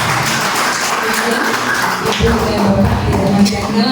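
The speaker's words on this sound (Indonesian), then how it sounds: "Tepuk tangan untuk Puskesmas Makassar" Audience applause for health center staff at a school healthy-canteen session, a busy patter of clapping mixed with voices and murmured talk, growing slightly fuller toward the end.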